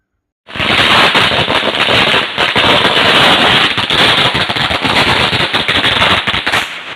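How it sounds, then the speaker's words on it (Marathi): A string of firecrackers bursts outdoors at a street celebration in Khopoli, loud rapid crackling pops that begin suddenly and rattle on densely for several seconds. "फटाके वाजवून व पेढे वाटून साजरा करण्यात आला"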